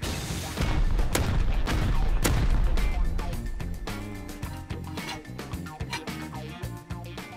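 Dense gunfire and heavy explosive booms crash through the opening seconds while turrets are being broken in the video game Rust, then thin into a rhythmic pattern of shots and impacts with a player talking underneath.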